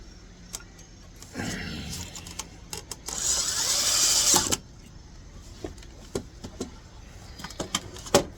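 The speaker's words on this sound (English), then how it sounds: "re-drill the rest of the holes, and this one will be done." A power drill boring holes in a freshly painted and coated wooden table runs in one loud burst of about a second and a half, surrounded by clicks and handling knocks and a few brief bursts of motor whine.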